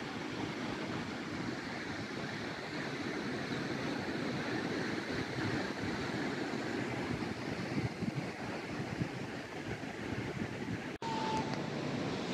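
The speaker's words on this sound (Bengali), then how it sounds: "ভালোই বাতাস আছে" Steady wind gusts across an open sandy beach in Muscat, Oman, a continuous loud broadband roar with surf-like texture filling the whole stretch, briefly cutting out near the end.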